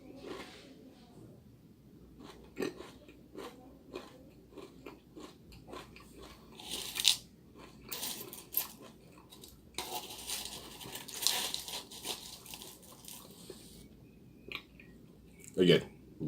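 Dry cereal eaten close to the mic, with repeated crisp bites and crunchy chewing in irregular bursts and soft mouth sounds between them, and faint speech at times.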